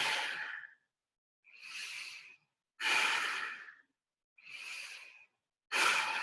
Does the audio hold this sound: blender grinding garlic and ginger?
no